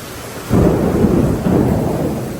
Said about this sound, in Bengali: এই পরিমাণ বৃষ্টি হইতেছে, জানি না কোন সময় থামে